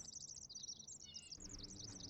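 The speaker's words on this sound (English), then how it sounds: "I don't know what that bird was doing here." Bird chirps in the survival game The Forest, a repeated high warbling tweet running steadily through the whole stretch over a low ambient rumble, moderately loud and alone.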